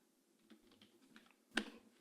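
Computer keyboard keys tapped sporadically while writing C# code, a few soft scattered clicks over a quiet room, then one sharper, louder keystroke near the end.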